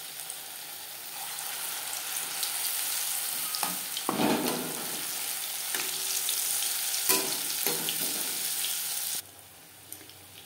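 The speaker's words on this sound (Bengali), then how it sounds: "কড়াইতে রিফাইন্ড অয়েল গরম করে নিয়েছি। এবার দিয়ে দেব ব্যাটারে ডুবিয়ে নেওয়া ফুলকপি।" Batter-dipped cauliflower fries in hot refined oil in a kadai, a strong, steady bubbling sizzle with occasional stirring, close up, that abruptly drops to a quieter hiss near the end.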